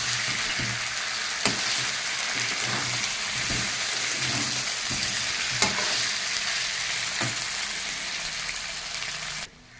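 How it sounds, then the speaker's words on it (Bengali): Pre-fried cauliflower and potatoes being stirred into a fried ground spice paste, giving a steady crackling sizzle with occasional spoon knocks against the pan, close and even until it cuts off at the end. "আমি এর ভিতরে দিয়ে দেবো ফুলকপি আর আলুগুলো,"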